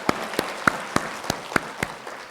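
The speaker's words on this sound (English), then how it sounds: "Can we give another applause to Mr. Sanwal for his help this afternoon?" A small audience at an international money conference gives sparse applause: about eight separate, sharp claps spaced unevenly, clear against a quiet room.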